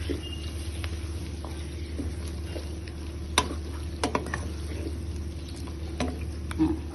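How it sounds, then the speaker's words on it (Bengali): Chopped carrots and potatoes stirred into a pot of sizzling onions while cooking chicken biryani, with a steady frying hiss and a few scattered clinks and scrapes of the spoon against the pot, no voices. "এখন দিয়ে দিব কেটে রাখা গাজর আর আলু।"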